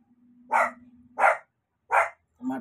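A dog barks four times in evenly spaced, sharp barks that are close and fairly loud, with a faint steady hum under the first half.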